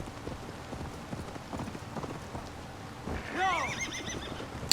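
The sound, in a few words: horse neighing in the video game Assassin's Creed Valhalla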